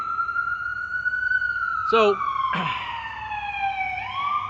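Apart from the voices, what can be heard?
ambulance siren passing by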